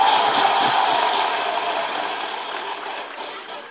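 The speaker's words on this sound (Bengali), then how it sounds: "ইমোশনসের জন্য বটে জোরে হাততালি।" An audience claps loudly at a talk. The clapping is steady and dense, and it slowly thins and softens over a few seconds.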